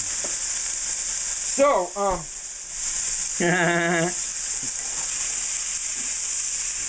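Garlic sizzling in hot oil in a pan: a steady bright hiss runs throughout, with a man's brief speech over it.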